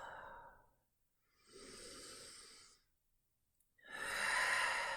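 A person breathes deeply during a slow shoulder-loosening exercise, three long, close breaths with pauses of near silence between them, the last exhale the strongest.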